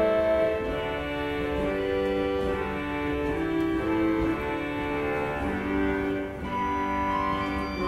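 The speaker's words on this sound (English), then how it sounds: "We have the English vox humana." The English vox humana, a very thin reed stop on the French Romantic Puget pipe organ at Kincoppal Rose Bay in Sydney, plays a slow phrase of sustained, nasal notes in a resonant room, with no speech.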